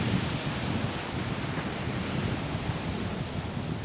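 Waves at Chikhla beach in Dahanu surge and wash in a continuous, dense roar, with wind buffeting the microphone throughout and no voices.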